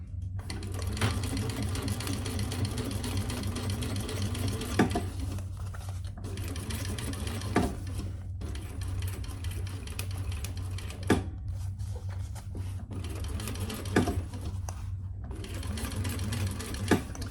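Sewing machine stitching leather for a crossbody bag, a continuous rapid needle chatter that runs in long bursts with short pauses, close and fairly loud.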